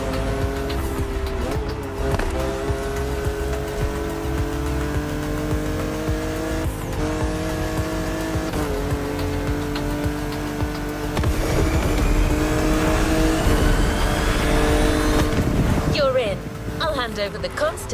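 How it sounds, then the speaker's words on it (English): A 1969 Camaro Z28 races in The Crew Motorfest, its engine note rising and falling through gear changes with brief tire squeal, loud and continuous with a surge near the end. "Good thing you're driving the 1969 Camaro Z28."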